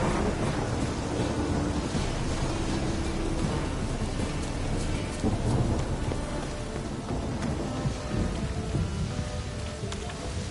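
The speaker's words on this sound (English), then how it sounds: "Storm, damn it." A thunderstorm in a PS4 video game: steady heavy rain hisses without a break while low thunder rumbles roll underneath, dense and loud for the whole stretch, with no voices.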